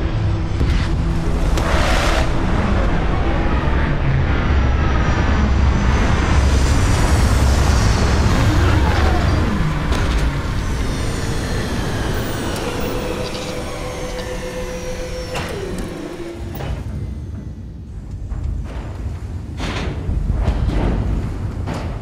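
A spaceship touches down in the video game Starfield, with a loud, sustained roaring thrust, whooshing sweeps and heavy thuds that ease off toward the end.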